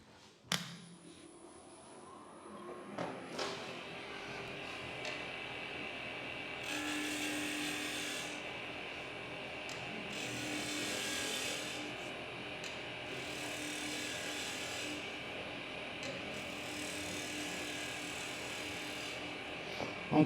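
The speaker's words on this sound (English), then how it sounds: "I'm cutting up grain here" A woodturning tool cuts up the grain on a spinning lathe at a woodturners club, a continuous whirring, scraping drone lasting many seconds that swells in intensity during several cutting passes, with no talk.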